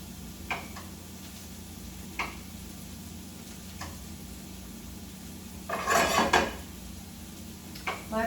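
A pan handled on a stovetop, with sparse light metallic clicks and ticks over a low steady hum, then a brief louder clattering burst near the end, nearby with no talking.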